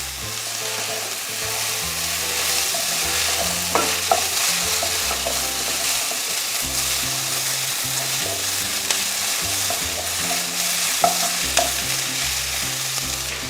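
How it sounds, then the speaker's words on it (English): Zucchini and other vegetables frying over high heat in a pan, a continuous close sizzle with intermittent scraping and stirring knocks, no talking. "Now cook the vegetables for around 4 to 5 minutes till all the vegetables are tender."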